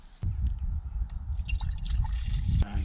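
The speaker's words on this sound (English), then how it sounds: "Let's start off though with filling the little stove with the fuel" Liquid fuel trickles and drips as it is poured into a small Trangia camping stove, a steady close-up dribble lasting a few seconds with a soft clunk at the start and end.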